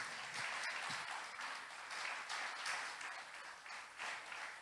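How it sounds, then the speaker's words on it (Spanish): A church congregation claps for the Lord in a steady, dense wash of many hands, heard somewhat distant and soft, with slight swells and dips in intensity. "Denle ese aplauso fuerte al Señor."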